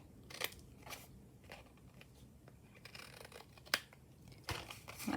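Scissors snip around a small paper tag for a junk journal, a few quiet, crisp cuts with soft paper rustles and crinkles between them, close and faint.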